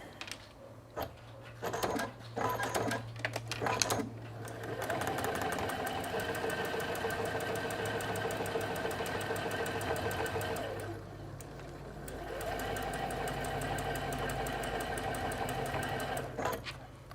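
A sewing machine stitches quilt blocks in a close, steady whirring run after a few short starts, with one brief pause before stitching resumes.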